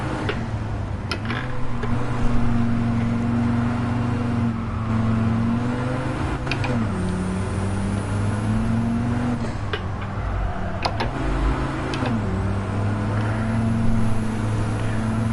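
Racing cars in Gran Turismo 7 roar through a randomized race, a steady multi-layered engine drone rising and dipping as gears shift, with sharp ticks and brief bursts over the continuous hum.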